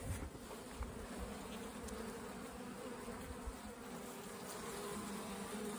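Honey bees swarming over a hive frame, a dense, steady buzzing hum close by with no pauses, heard alone without any talking.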